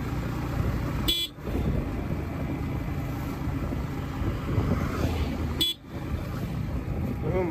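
Two short, loud vehicle horn blasts, a few seconds apart, sound over constant engine and road traffic noise on a village street near Sarnath, India.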